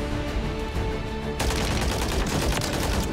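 Holger light machine gun firing in Call of Duty Warzone, heard as a dense, loud stretch of rapid automatic bursts that grows harsher and fuller partway through, with no talk over it.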